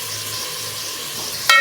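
Mint and coriander leaves sauté in a pan for brinjal biryani, giving a steady soft sizzle that ends in a short, louder scrape or stir.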